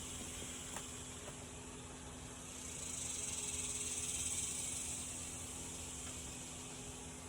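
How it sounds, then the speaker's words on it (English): A dense, high-pitched insect buzz of cicadas hums steadily in the distance, swelling briefly louder midway before settling back, with no voices. "the sounds of cicadas singing to me in the background here was really soothing"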